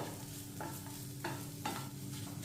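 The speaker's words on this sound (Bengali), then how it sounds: "বিট গাজরের সাথে ভালো করে মশলাগুলো মিশিয়ে নিলাম" Spice powder is stirred into grated beetroot and carrot in a pan for vegetable chop filling, making a soft sizzle with a few distinct scraping strokes of the spoon, faint and close with no voices.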